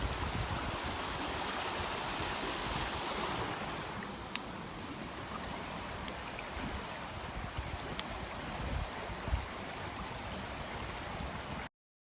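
A river rushes steadily past a flooding island in a constant broad wash of water and wind noise, with a few faint ticks, before the sound cuts off abruptly.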